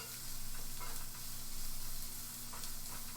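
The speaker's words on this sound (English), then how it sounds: "Gonna saute these up for just about 10 minutes until the onions are translucent" Onions sautéing in a hot pan give a steady, fairly quiet sizzle with soft stirring scrapes, no talking, and a constant low electrical hum underneath throughout.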